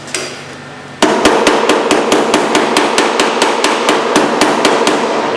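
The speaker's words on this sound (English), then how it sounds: "I don't ever hammer straight down. I always do deflecting blows." A hammer strikes metal over and over, landing glancing blows while welding up bullet holes: about twenty sharp, evenly spaced clanks, loud and close.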